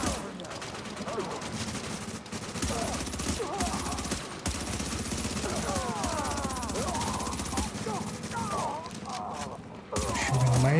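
Rapid gunfire and fusillades from The Division 2 video game crackle almost nonstop at close to mid range, dense bursts layered over game effects and chatter.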